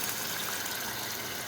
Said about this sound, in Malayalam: ഇനി കഞ്ഞിവെള്ളം ആവശ്യത്തിനുള്ളത് ഒഴിച്ചു കൊടുക്കുക.